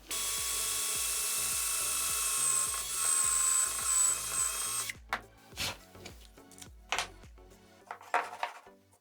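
A power drill whines at high speed boring a hole into a scrap piece of beech wood, a steady loud whir for several seconds, then stops, leaving scattered clunks and knocks of handling the workpiece.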